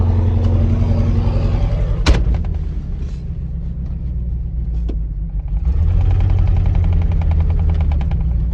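A 1988 Ford F-250 pickup that sat over a decade, its engine rumbling loud and close as it drives, with a sharp clunk partway through and revs building again toward the end.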